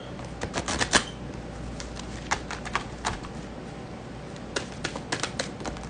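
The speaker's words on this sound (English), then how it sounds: "Let me shuffle these. Cut and shuffle." Cards are shuffled in quick, crisp riffling bursts, with soft clicks and taps between, close by and fairly quiet.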